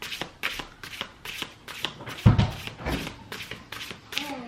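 Oracle cards are shuffled in quick repeated riffles, a steady run of crisp flicking bursts close up, with no talking.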